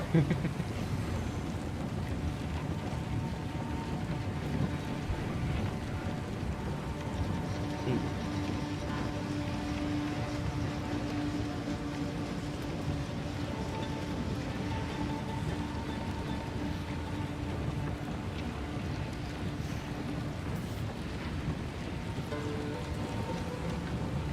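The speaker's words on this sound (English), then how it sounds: "but it's definitely raining right now." Steady video game rain in Path of Exile 2 hisses continuously at moderate level, with a faint low hum and a few soft tones running underneath.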